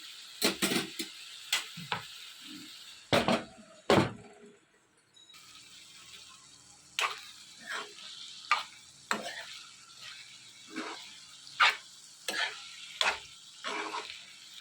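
Eggplant pieces added to a pan for eggplant tomato curry, intermittent stirring scrapes and clinks over a faint low sizzle, with a quiet stretch partway through.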